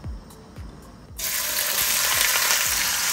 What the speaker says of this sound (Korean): 최대한 센 불에 빨리 볶는다 생각하시고 볶으시면 돼요